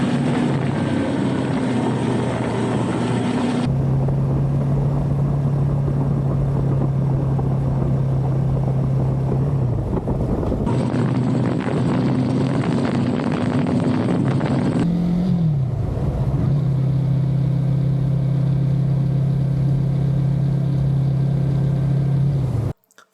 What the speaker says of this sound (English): I tried this out on a motorcycle and I went 50 kilometers per hour